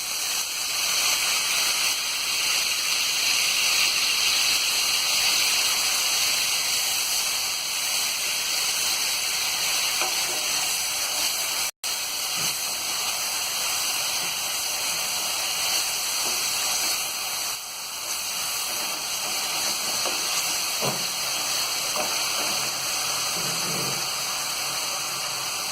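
Chopped onions frying in hot oil with cumin seeds in a pan for chole masala, a loud, steady, dense sizzle that holds evenly throughout with no talk.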